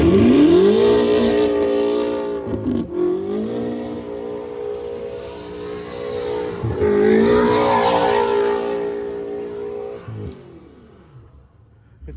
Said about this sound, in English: His first ever all-wheel drive donuts.